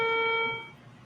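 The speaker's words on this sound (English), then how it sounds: "the following is a test of ship's whistle and general alarm." A ship's general alarm sounds during a test as a steady, buzzing electronic tone, held briefly and then cut off, fading into a low background hum.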